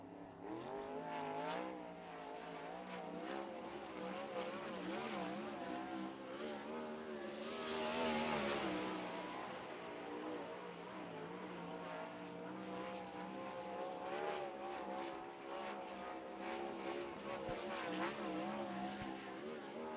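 A winged sprint car at full throttle during a qualifying lap at Arizona Speedway, its engine a loud, continuous high-revving howl that swells in a close pass near the middle before easing away, with a racing public-address feel throughout.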